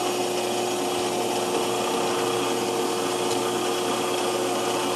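A power tool whines steadily at close range while putting a small chamfer on the tip of a handmade scratch awl, a constant grinding drone with a faint tick midway.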